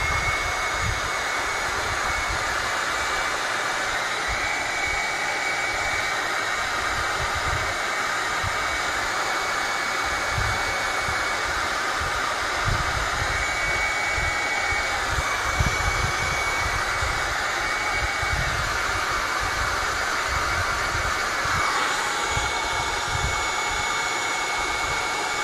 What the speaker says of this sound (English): We'll just grab my trusty heat gun.